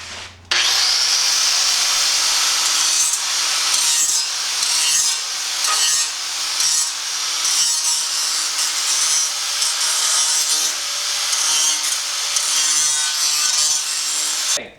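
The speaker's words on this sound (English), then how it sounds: "I'm going to grind down all the edges so I have clean metal wherever we're going to weld." An angle grinder with a grinding disc grinds down metal edges to clean them before welding in a garage. A loud, continuous abrasive rasp starts abruptly and runs for the whole stretch, rising and dipping slightly as the disc moves, with no talking.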